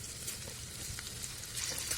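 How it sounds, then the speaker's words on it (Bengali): Chicken pieces fry one by one in vegetable oil over a medium-to-high gas flame, producing a faint, even crackling sizzle with no voices. "সমস্ত চিকেনগুলো এক এক করে আমি ভেজে তুলব।"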